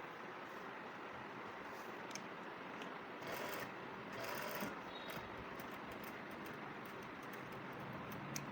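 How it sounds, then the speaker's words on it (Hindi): A sewing machine stitches a hook strip onto a blouse, giving a steady, fairly faint whirring run that continues for the whole stretch with slight swells in level and no talking. "एक सिलाई और इसके ऊपर से लगाएंगे"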